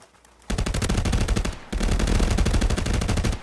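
Automatic gunfire from the VR shooter Contractors rips in two long sustained bursts, fast evenly spaced shots loud and close, the first burst breaking off briefly before the second one carries on to the end.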